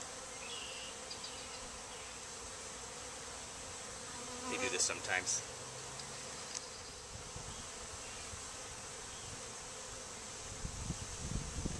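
A dense, continuous hum of honeybees buzzing around an open hive fills the air close by during an inspection, and a person briefly speaks over it midway through.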